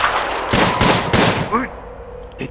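Gunfire in the Prison Architect video game as police are shot: a few sharp bursts of rapid shots close together in the first half, with a voice speaking over and after them.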